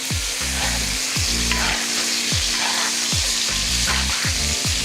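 Garlic butter lamb chops fry loudly in a pan, a dense crackling sizzle that keeps pulsing as butter is spooned over the meat, close and without talk.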